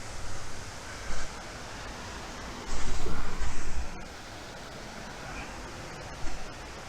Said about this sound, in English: It's a multi-layered waterfall.